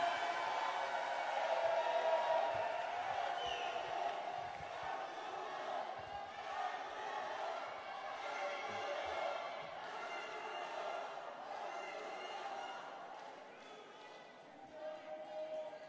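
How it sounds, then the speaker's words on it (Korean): At an outdoor Korean Democratic Party campaign rally in Jeonbuk, a crowd welcomes a candidate with sustained cheering, chanting and applause. The noise stays broad and busy throughout, with raised voices mixed in. "여러분 뜨거운 박수로 맞아주십시오"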